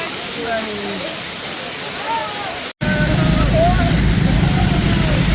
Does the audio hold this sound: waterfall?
yes